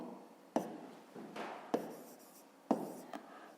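Pen writing down an answer to a fifth-grade math exercise, a faint, close scratching with three sharp taps as strokes begin, quiet throughout with no voices.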